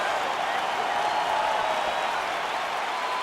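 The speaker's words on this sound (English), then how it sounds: "Crowd getting a little bit restless" A restless arena crowd in the UFC 5 fighting game murmurs and claps in a steady, distant wash of noise that holds at an even level throughout.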